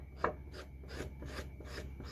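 An ink distresser tool is rubbed along the edge of a sheet of paper, making faint, close, rasping scrapes in a steady back-and-forth rhythm of short strokes, with no speech.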